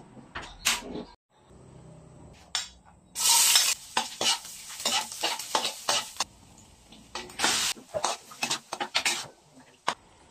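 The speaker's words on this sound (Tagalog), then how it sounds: "Inuna ko na nga igisa yung sibuyas at bawang at isusunod na lang yung pork giniling." Onion and garlic sautéing in a pan before ground pork is added, with intermittent sizzling bursts, spoon stirring and scraping, and clattering cookware at close range, with brief pauses between.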